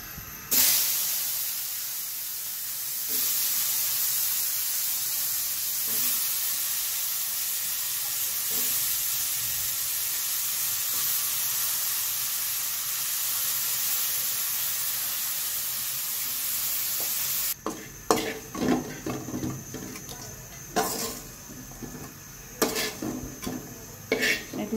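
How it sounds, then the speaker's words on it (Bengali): Yardlong beans fry in a pan, a loud steady hiss and sizzle filling most of the clip, then quieter crackling with clinks and scrapes of a utensil against the pan near the end. "এগুলো ভাজা হয়ে গেছে বরবটিগুলো"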